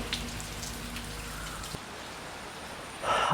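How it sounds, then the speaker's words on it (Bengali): Steady rain falls continuously with a dense hiss of drops, softening midway and then swelling louder at the end. "সারাদিন প্রায় 2 থেকে 3 দিন বৃষ্টি চলতেছে।"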